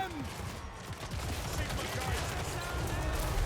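Dense, continuous battlefield gunfire from Total War Warhammer 3, with rapid handgun volleys and grenade blasts blending into a loud, unbroken crackling rattle.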